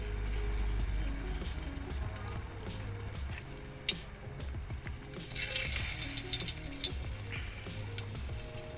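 Banana fritters in a light crispy batter fry in hot, bubbling oil, giving a steady close sizzle with scattered pops and crackles that grows denser toward the end.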